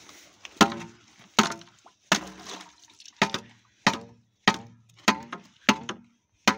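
Sharp repeated cracks and chops as a thick layer of frozen ice is broken on a cow dairy farm, about nine strikes at a steady pace, each followed by brief crunching and splintering.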